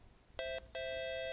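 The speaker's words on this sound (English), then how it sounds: "I hear something beeping." Electronic beeps sound faintly in a quiet room: one short tone followed by a longer sustained one, thin and steady, with no speech.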